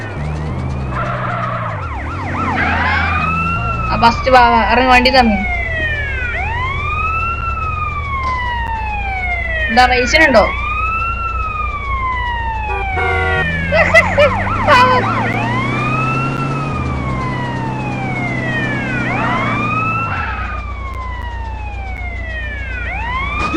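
Wailing police sirens in a driving video game, several overlapping rising-and-falling tones sounding loud and continuous over a low engine rumble, with brief talk between players.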